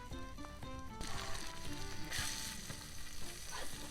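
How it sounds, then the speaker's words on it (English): Breaded clams dropped into a deep fryer, a steady crackling sizzle with bubbling pops and a brief louder surge, close by with no talk over it. "Now we're going to pat it a couple times and then put it directly in the fryer."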